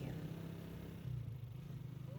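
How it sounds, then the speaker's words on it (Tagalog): A motorized tricycle hums steadily during a ride in Boracay, a low, even engine drone with a slight rise midway, faint and close, with voices talking over it. "Siyempre, tricycle tayo."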